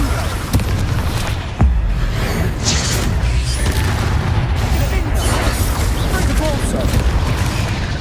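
Confringo fire spell in Hogwarts Legacy on PS4 Pro: a string of heavy booming impacts and roaring fiery bursts, loud and continuous with a sharp hit midway and rumbling explosions that layer over each other.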